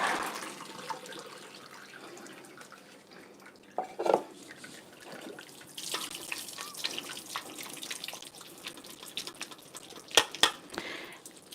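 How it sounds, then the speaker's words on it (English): Boiled potatoes are drained into a kitchen sink as water pours and splashes steadily, with a few clanks from the pot, close by. "So come on over here with me to the sink, and I'm just going to drain these."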